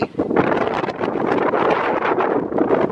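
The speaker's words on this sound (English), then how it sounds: "let's just get inside of this wind" Strong outdoor wind buffeting the microphone near an airport, a continuous roaring rush with gusting swells and no clear voices.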